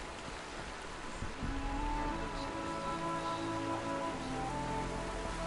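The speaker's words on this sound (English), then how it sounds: "And there's the rain." Steady rain in the video game Horizon Zero Dawn patters on a surface, a constant hiss with faint tonal hum underneath, moderately quiet and uninterrupted.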